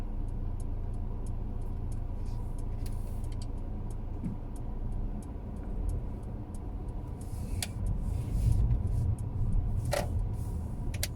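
A car's turn signal ticks in a steady, fast rhythm inside the cabin of a moving car in London, crisp clicks over a low engine and road rumble, with no talk.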